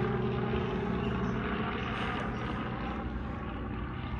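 A large, heavy helicopter passes overhead in the outdoors, a steady loud rotor and engine rumble holding for the whole span, broad and continuous with no voices over it.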